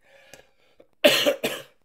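A close, harsh double cough, two quick bursts following some quiet throat sounds.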